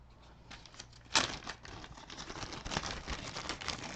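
Plastic bags rustle and crinkle close by, starting softly and then breaking into a sharp burst of crumpling that continues as steady handling noise, with no voices.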